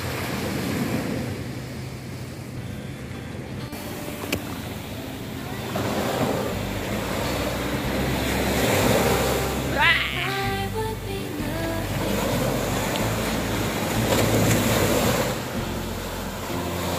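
Steady wind blowing across a reed field by the sea at Suncheon Bay, loud and continuous, with gusts buffeting the microphone and a faint low rumble underneath.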